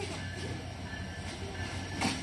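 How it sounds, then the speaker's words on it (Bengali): A train pulls into a station in Bangladesh while people wait on the platform, a steady low rumble of rolling wagons running throughout with a brief louder swell near the end. "এই যে ট্রেন চলে আসছে।"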